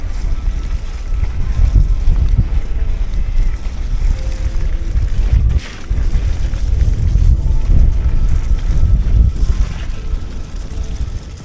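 Wind roars loudly and continuously across the microphone outdoors at Ogden Waters on an e-MTB ride, a heavy low rumble with a brief lull midway.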